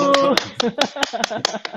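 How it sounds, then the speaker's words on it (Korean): A handful of people clap together during a sit-down interview, a burst of sharp, close claps running steadily for under two seconds, with a voice briefly speaking at the start. "우리 이 대목에서 박수 한번 칠까요?"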